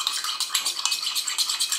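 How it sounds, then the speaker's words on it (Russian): A spoon stirs citric acid dissolved in a cup of water, making quick, rhythmic light clinks and scraping against the cup, close and steady with no voices. "Размешиваем."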